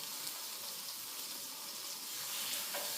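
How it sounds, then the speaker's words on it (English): Steady, hissing sizzle of chicken cooking on a hot grill, continuous and close, with faint crackles and no voices. "Listen to that sizzle."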